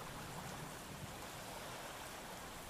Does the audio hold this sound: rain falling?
yes